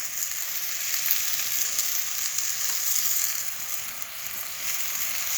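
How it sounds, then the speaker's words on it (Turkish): Meat sizzles steadily in a pan over a wood fire outdoors, a dense continuous frying hiss close up with no talk. "Cızır cızır cızır. Eti düşürüyoruz arkadaşlar."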